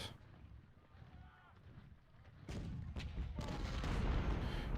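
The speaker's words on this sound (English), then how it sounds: "Here comes some artillery." Artillery fire in the Civil War strategy game Ultimate General: Civil War, heavy booming blasts and rolling rumble building to a dense, loud barrage after a quieter stretch.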